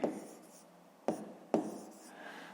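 Fractions written by hand with a pen on paper in a maths lesson: three short scratchy strokes, each starting with a sharp tap and fading, close and fairly quiet, with no talking.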